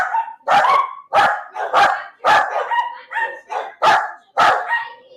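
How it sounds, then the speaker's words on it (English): A dog barks sharply about eight times in an irregular but steady run, loud and close, with no voices over it. "still in need of a dog barking sound effect"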